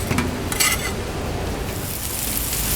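Sausage sizzles and crackles steadily on a Blackstone griddle cooking outdoors, a dense, even frying hiss with a few faint clinks near the start and no voices.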